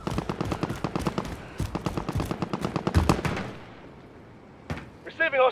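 Rapid bursts of automatic gunfire in the video game Call of Duty: Warzone, loud and dense through the first three seconds, then fading, followed by a couple of brief sharp shots and electronic beeps near the end.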